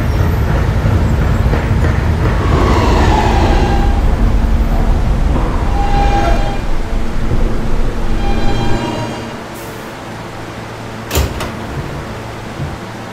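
Siemens R160B subway train on the E line in a Roblox subway game, a loud steady rumble of wheels and motors running along the track that fades to quieter rolling, followed by a few clunks.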